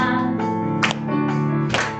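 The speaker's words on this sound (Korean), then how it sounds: "같이 박수 치면서 찬양하시겠습니다." Church congregation claps along to a worship song at an Easter Sunday service, with a few sharp, evenly spaced claps over sustained singing and instruments.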